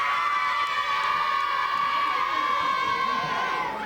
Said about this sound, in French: On va quand même essayer de faire l'applaudissement.